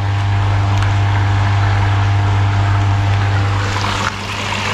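A koi pond aerator pump's steady motor hum with continuous bubbling and gurgling water, close and constant, easing slightly near the end.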